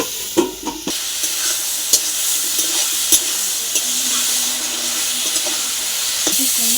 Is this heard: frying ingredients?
yes